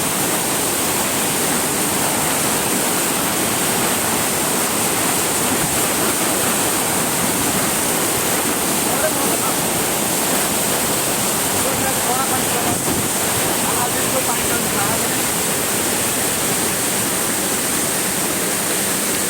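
Dense, roaring rush of falling water, steady and loud throughout, like standing close to a waterfall.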